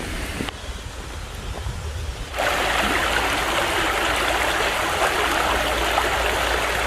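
Steady broadband rush of a flowing stream on a hiking trail, loud and continuous, growing fuller partway through as the water comes nearer, with no talking.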